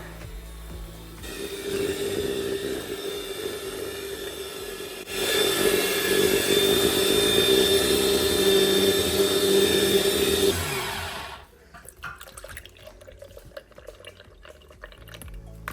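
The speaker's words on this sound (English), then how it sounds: "Canoly performs better by instantly crushing the lemons." Canoly slow juicer crushing and pressing lemons, a steady close motor whir with grinding and wet squeezing that grows louder midway, then cuts off to quiet clatter.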